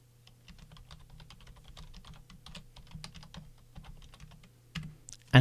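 Quick clicky keystrokes on a computer keyboard, close and crisp in an irregular typing rhythm with brief pauses, ending with a sharper thump.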